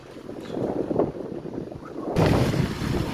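Gusty wind sweeps across an outdoor brick stockpile, buffeting the microphone in a rough, low roar that grows noticeably louder partway through.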